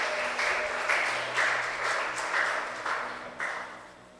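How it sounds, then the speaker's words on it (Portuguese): Church congregation applauding during a worship service, a steady broadband clapping wash with slight surges and fades, moderately loud and without talk. "Pode aplaudir o Senhor,"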